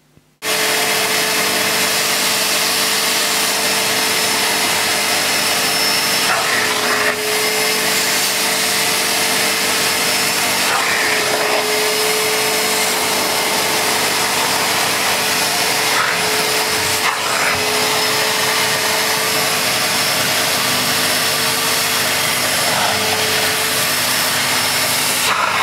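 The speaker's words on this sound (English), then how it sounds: "we're going to turn on actually both the pump, which is that button, and the suction together, and I'll just demonstrate cleaning a stair for you." A Numatic George GVE 370 wet/dry vacuum cleaner runs with both pump and suction on while cleaning a stair, giving a loud, steady motor roar that holds throughout with slight shifts in pitch as the nozzle moves.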